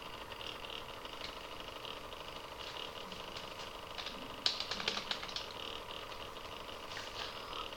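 Fingers type a command quickly on a computer keyboard with quiet, irregular clicking. The keystrokes sit faintly over a steady background hum, with a brief denser burst midway.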